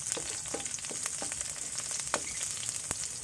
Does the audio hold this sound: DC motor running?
no